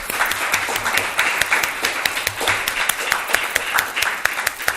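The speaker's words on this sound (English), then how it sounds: "Let's give them a round of applause" Applause for panelists at a Black music talent showcase panel in Louisville, a moderate crowd with distinct individual claps standing out sharply within the steady patter, fairly close and continuous.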